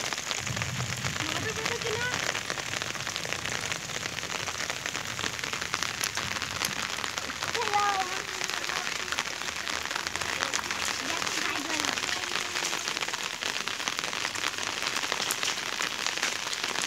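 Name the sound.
heavy rain falling in a village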